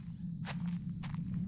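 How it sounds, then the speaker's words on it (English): Two distinct footsteps on a floor surface in a video game, crisp separate impacts about half a second apart over a low steady hum. "Each one uses 3 to 5 different footstep sounds per material that are randomized in volume and pitch in order to avoid repetition"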